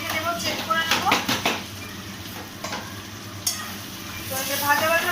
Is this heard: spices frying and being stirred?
yes